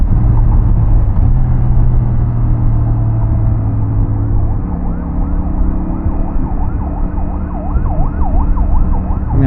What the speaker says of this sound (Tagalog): May ambulansya na naman.